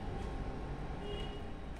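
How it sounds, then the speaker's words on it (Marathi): Mixer grinder whirring steadily as it blends plain curd with no water added, a dense continuous motor roar that stays loud and even throughout. "पाणी न घालता मिक्सरला एकदा फिरवून घेऊया।"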